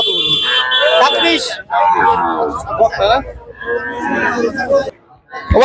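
Cattle at a calf market selling four- to six-month-old calves, loud repeated moos and bellows close by, with pauses between calls and a murmur of people in the background.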